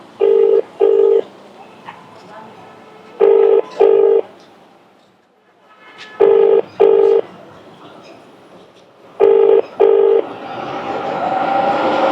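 A phone ringback tone sounds in repeated double rings, four pairs with pauses between, followed by a rising noisy rush at the end.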